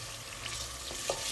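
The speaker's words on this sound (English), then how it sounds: "I will then add my 1 tablespoon of margarine" Margarine hits hot oil with salted beef in a pan, giving a steady, faint sizzle and frying hiss with a soft stir, no talk.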